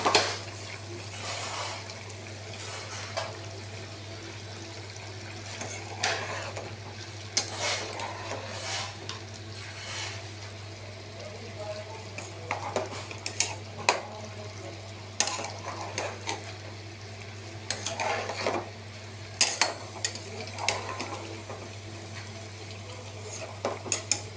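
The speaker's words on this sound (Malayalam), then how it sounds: "വീണ്ടും നമ്മൾ മൂടി തുറന്ന് ഒന്ന് ഇളക്കണം" A pot lid lifted and a spoon stirring chicken curry made with roasted ground coconut, scattered clinks and scrapes of metal on the pot over a steady low hum, with short clattery bursts through the stretch and no talk.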